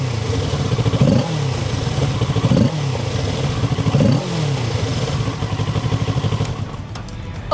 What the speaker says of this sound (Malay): sekarang ni saya nak belanja sikit bunyi Kawasaki Ninja 650 ni macam mana